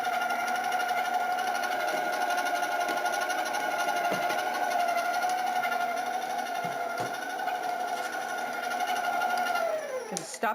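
An electric stand mixer beats cake batter with a steady, high motor whine and faint rhythmic rattle, running continuously close by before winding down abruptly at the end.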